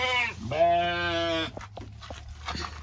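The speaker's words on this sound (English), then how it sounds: "the sheep love. So I am actually going to give them some now" A sheep lets out a loud, long, wavering bleat close by as it waits for curly kale at an off-grid homestead, followed by a shorter bleat and softer scuffling sounds.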